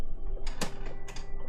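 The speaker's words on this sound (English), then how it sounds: "Yeah, printer's on." A printer runs mid-job, a steady mechanical whir with a few quick clicking and ratcheting bursts, close and moderately quiet, with no voices.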